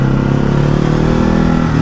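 A 2024 Ducati Hypermotard 950 SP engine chugs along steadily at low RPM, a loud, close, even drone with a deep pulsing throb and no voices.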